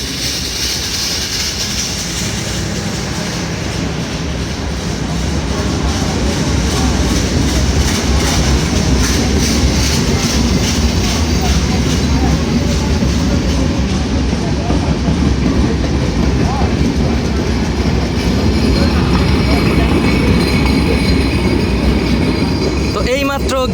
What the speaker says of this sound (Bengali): মাত্র গ্যান্ডারিয়া রেলওয়ে স্টেশনের 2 নং রেলপথ দিয়ে থ্রু পাস করে গেল ঢাকাগামী আন্তনগর রূপসী বাংলা এক্সপ্রেস